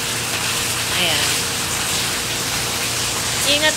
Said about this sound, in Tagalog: medyo malakas yung ulan ngayon.